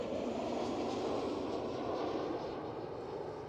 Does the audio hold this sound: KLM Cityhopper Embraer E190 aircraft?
yes